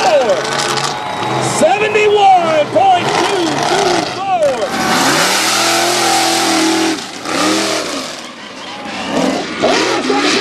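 Mega truck racing engines rev hard and roar at a Texas race, loud and sustained with rising pitch sweeps, under excited commentary from an announcer throughout.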